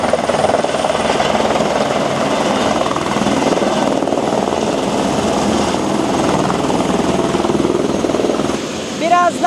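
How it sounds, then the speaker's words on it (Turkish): Helicopter in Dubai, a steady loud rotor and engine roar with heavy wind buffeting, running continuously up close, with a voice talking over it near the end. "Bizim helikopter bu sanırım. Gidiyoruz."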